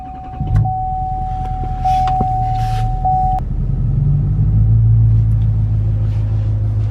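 A truck engine is started in snowy weather, with a chime and a starter crank, then catches into a steady, deep rumbling idle that rises slightly to a high idle, close and loud.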